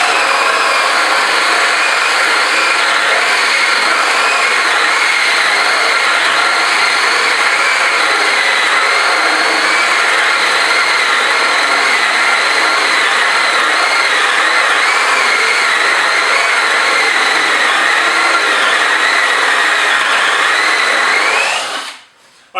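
A Hitachi 18V cordless combi drill boring with a 50mm Forstner bit runs as one long continuous whine for about twenty seconds, close and loud, slowing slightly before stopping abruptly at the end.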